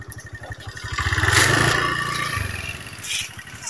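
A motorcycle is ridden toward a forest, its engine rumbling close by as it revs up, holds steady, then eases off and picks up again.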